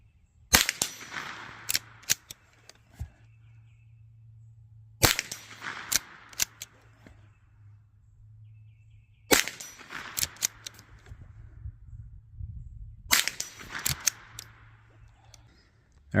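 Rossi Gallery pump-action .22LR rifle fired at targets about 50 yards out, four sharp isolated cracks spaced several seconds apart, each followed by a brief clatter of the pump action in a quiet outdoor setting.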